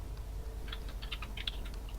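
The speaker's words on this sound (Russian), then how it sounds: "не стучи по клавиатуре, очень громко" Rapid, uneven key clatter on a loud computer keyboard, close and fairly sharp, a burst of clicks over a steady low background hum with no talk.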